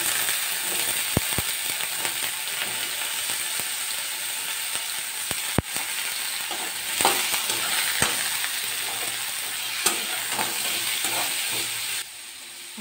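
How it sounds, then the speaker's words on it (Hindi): Potatoes frying in a pan after ginger, garlic and chili paste went in, a steady broadband sizzle with scattered clicks and scrapes of stirring, ending in a quieter hiss. "आलू को पहले फ्राई करेंगे।"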